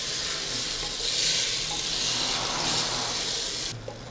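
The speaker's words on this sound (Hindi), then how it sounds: "गोश्त को भूनते हुए तकरीबन हमें 2 मिनट हो गए हैं" Marinated meat for masala tikka handi fries in a pot with a dense, continuous hissing sizzle, loud and close, swelling slightly twice and dropping off near the end, with no voices.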